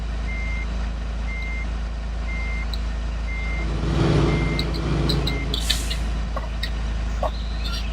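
A John Deere vehicle reverses in Farming Simulator 2013, its beeper sounding a steady, evenly spaced series of about six beeps over a constant low engine rumble, with brief mechanical clunks near the end.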